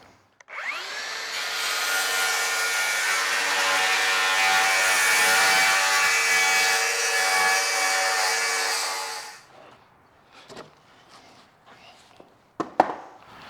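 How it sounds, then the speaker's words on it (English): A wooden 48 by 40 pallet is cut in half with a power saw, a loud, sustained rasping drone for about nine seconds. It then stops, leaving scattered knocks and clatter of wood being handled. "now we have our standard 48 by 40 pallet ripped in half"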